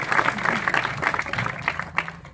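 Audience applause at a devotional kirtan gathering, a dense patter of many hands clapping steadily for a couple of seconds, moderately loud and fairly close.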